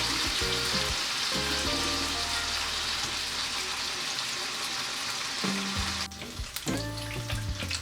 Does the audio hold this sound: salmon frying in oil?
yes